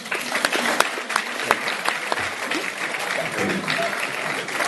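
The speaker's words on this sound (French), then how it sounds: "Alors je voudrais applaudir." An audience applauds at a talk on the Torah, a steady burst of many hands clapping with sharp individual claps standing out, close and continuous for the whole stretch.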